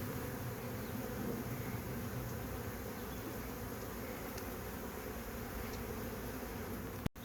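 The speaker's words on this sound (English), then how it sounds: "if you see this giant ball of bees hanging on the front here" Honeybees swarm on the front of a hive, a dense steady buzz of many insects that runs unbroken and close, with a sharp click near the end.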